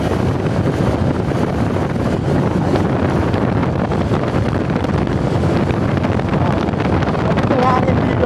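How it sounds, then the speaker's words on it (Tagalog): Steady, loud wind buffeting a microphone on a big-bike Sunday ride through the Kaybiang Tunnel area toward Ternate, Cavite, a continuous broadband roar with no breaks. "Ang hangin dito."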